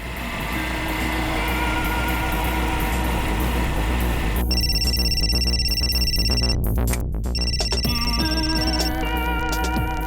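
A telephone rings loudly with repeated electronic trilling bursts over a constant droning hum.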